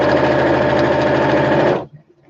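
A sewing machine stitching fabric runs in one steady, loud, close whirring buzz for nearly two seconds, then stops abruptly, leaving only faint rustling.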